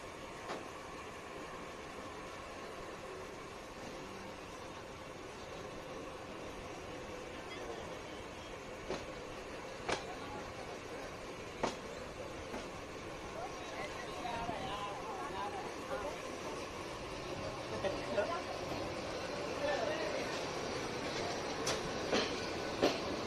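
A passenger train rolls through a station in Bangladesh with a steady low rumble and rattle, marked by faint clicks of the wheels over rail joints that grow a little busier toward the end.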